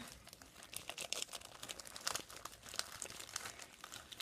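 A package being torn open gives quiet, close crinkling and crackling of plastic wrapping, in rapid irregular bursts throughout.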